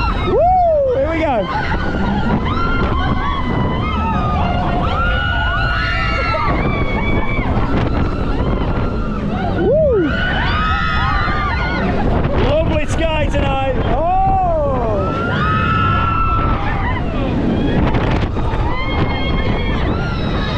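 A large swinging fairground thrill ride at a winter funfair runs at full swing, with wind rushing loudly across the microphone throughout while riders whoop and talk over the constant roar.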